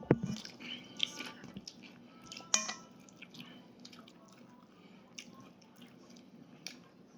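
Someone eating cooked meat up close, with soft, wet chewing and occasional bites and squishes, faint and intermittent in a quiet room.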